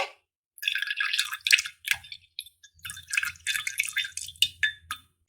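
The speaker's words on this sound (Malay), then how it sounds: "Okey, sekarang kita letak jus dia. Masukkan jus-jus aja." Juice is poured for a cocktail pudding, a run of close, wet splashing and dripping in quick bursts with short pauses between them, heard alone.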